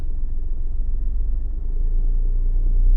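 Automatic car pulling away on a slight incline with a gentle touch of throttle, a low steady engine rumble that swells slightly toward the end, with no talk over it.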